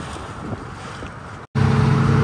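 A ferry boat crossing at sea along the Konkan coast between Dapoli and Sangameshwar gives a steady rumbling wash of engine and wind, which cuts out briefly and returns louder with a droning hum.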